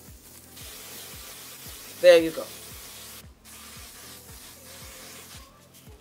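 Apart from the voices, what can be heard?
aerosol spray can spraying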